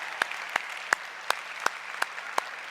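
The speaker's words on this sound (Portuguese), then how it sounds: "dá uma salva de palmas para a sogra" A church congregation claps in unison during a Saturday service, with sharp, evenly spaced group claps at a brisk steady beat over a low room hum.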